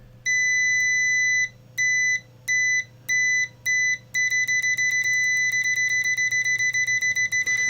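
Continuity beep from a UNI-T digital multimeter: a series of loud, steady high tones, first several longer beeps with short gaps, then a fast run of rapid short pulses, heard alone over faint background hum.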